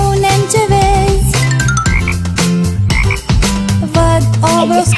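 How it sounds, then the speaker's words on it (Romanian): Cartoonish frog croaks sound within a lively children's educational song, repeated in rhythm over dense instrumental music. "Văd o broscuță."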